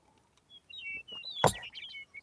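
Small birds chirp and call outdoors in the open countryside of Central Utah, a few thin tweets and trills scattered over quiet morning air with one brief louder burst.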